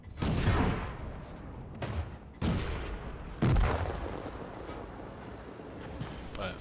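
Artillery fire in the World of Tanks video game, a few loud booming shots with rumbling tails spaced a second or so apart, fading between blasts.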